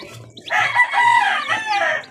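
Yellow Sweater breed chickens in a batch cluck and call, a close cluster of overlapping raspy bird calls over soft low thumps.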